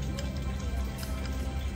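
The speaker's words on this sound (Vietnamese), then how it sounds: "Gọi như không, hôm nay mưa, khổ quá. Mưa nè." Rain falls steadily during a wet day in the Mekong Delta countryside, a continuous soft patter of drops with a low rumble underneath, with no talking.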